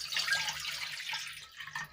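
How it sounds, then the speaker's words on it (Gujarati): Water pours steadily from a tap into a pan for wheat flour khichiya papad dough, a continuous bright splashing stream that tapers near the end, with no talking. "સવા વાટકા જેટલું પાણી એડ કરીશું"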